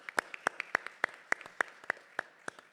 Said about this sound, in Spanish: Un aplauso, por favor, de nuevo para...